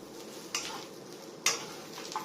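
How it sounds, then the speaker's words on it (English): Green beans stir-fried in a hot wok with a faint sizzle beneath, a few sharp clanks of a utensil against the pan as the beans are moved, quiet and close. "I'm going to throw in the beans and move them around a bit so they blister a little bit."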